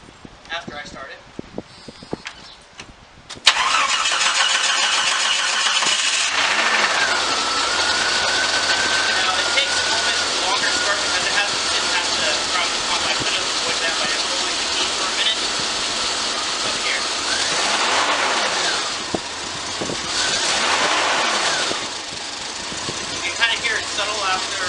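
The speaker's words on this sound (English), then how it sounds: "what I'm actually going to be doing now is I'm going to be starting it." A Jeep engine catches after a few seconds of ticking and cranking, then idles steadily and loudly for a long stretch, with a low steady hum and occasional revving swells.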